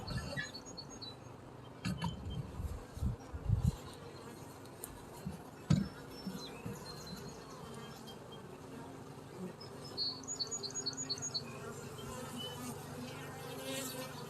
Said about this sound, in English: So you guys can see there's plenty of bees in here